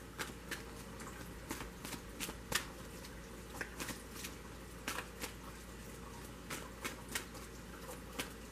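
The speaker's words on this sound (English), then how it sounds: "I don't even know if I shuffled these." Tarot cards shuffled by hand at close range, a run of soft, irregular papery riffles and taps over a quiet room, with no talking.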